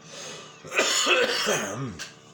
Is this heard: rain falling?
no